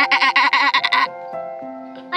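A sheep bleats on a farm, a loud, close, quavering call that pulses for about a second, then fades into quieter wavering tones before a brief new burst.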